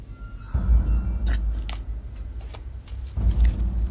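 Keys jangling as they are handed over in a live-action FMV mystery game, several light metallic clinks in two short bursts over a low background hum, fairly close.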